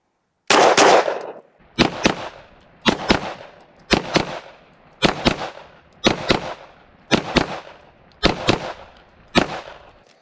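Pistol shots fired at USPSA targets using a red dot sight: nine loud, sharp reports spaced about a second apart in an even rhythm, each with a short echoing tail, close by and with no talk.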